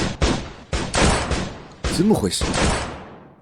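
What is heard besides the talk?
gunfire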